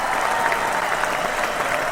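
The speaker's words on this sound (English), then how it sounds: "we always give them an astounding round of applause" A steady, dense round of audience applause fills the room at a hockey-themed live show, even and sustained for the whole stretch with no voices on top.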